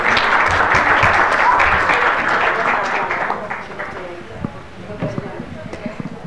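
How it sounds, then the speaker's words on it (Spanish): Applause from a conference audience welcoming a speaker at a Latin American internet governance forum session, strong at first and then tapering off into scattered claps, with a voice speaking over the fading end. "la recibimos con un fuerte aplauso"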